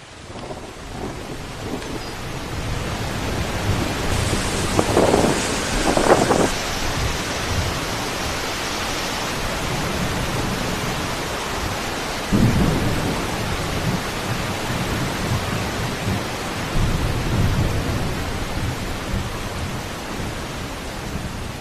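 A sudden heavy rainstorm over a wetland, with a dense, steady hiss of pouring rain throughout and several deep rolls of thunder rumbling in at intervals, loud and close.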